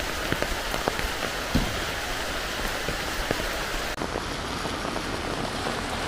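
Heavy rain falls steadily around a house at Enthayar in Kerala, a close, unbroken wash of noise with a few scattered sharper drops and knocks, no one speaking.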